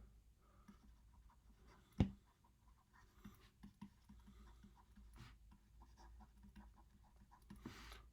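Chalk or marker strokes on a board as a Dirac equation is written out, with soft scratching and tapping in short bursts, one sharper knock near the start, fairly faint and close, with no speech.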